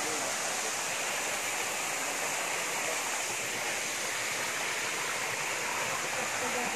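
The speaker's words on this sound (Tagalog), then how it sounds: "Ganito na po yung falls ng Hinay-hayan." Hinay-hayan Falls pours steadily in a dense, constant roar of falling water, loud and close, unbroken from start to finish with no break in its hiss.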